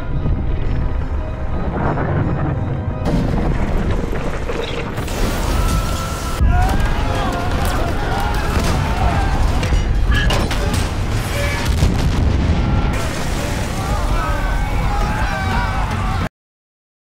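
An offshore oil rig explodes as its structure is crushed in a film scene, with heavy booms, crashing and rumbling debris over several bursts, and someone narrates over it.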